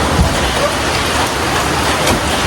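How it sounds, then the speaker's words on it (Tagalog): Heavy holiday rain pours down in a steady, dense roar, loud and close and unbroken throughout, with no voices over it. "Grabe yung ulan ha, lakas ha."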